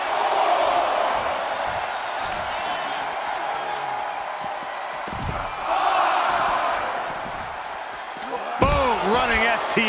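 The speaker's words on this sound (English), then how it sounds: "Just sent crashing to the arena floor." A wrestler crashes to the arena floor in the WWE 2K25 video game, heavy slam impacts under a roaring crowd, with a commentator's voice talking throughout.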